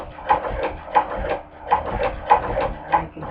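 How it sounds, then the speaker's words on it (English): A hand-crank cobbler sewing machine stitching thick leather, with a steady rhythmic series of mechanical clacks about twice per second, close and clear with no talk. "I wanted to do it with a sewing machine."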